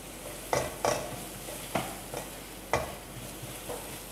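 Garlic, ginger, garam masala, chili powder and cumin sautéing in a pan, a low sizzle broken by several sharp spatula scrapes and knocks against the metal, close and fairly quiet.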